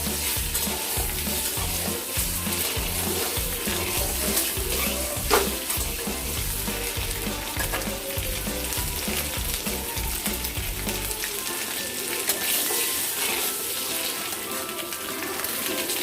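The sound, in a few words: duck eggs frying in oil with turmeric and salt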